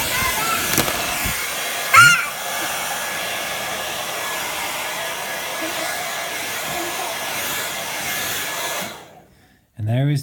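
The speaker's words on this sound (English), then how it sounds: "You're going to play with the hairdryer?" A hair dryer blows at a Lego house with a steady, loud whooshing roar that runs on for several seconds, then cuts off abruptly, leaving a short burst of other noise near the end.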